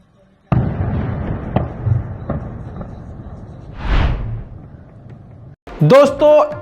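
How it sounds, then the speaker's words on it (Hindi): Intermittent explosions in Donetsk, several sharp distant booms and thuds spaced across a rumbling background, with a swelling burst midway and a voice speaking near the end. "डोनेट्स्क में रुक रुक के धमाके की आवाज अभी भी आ रही है"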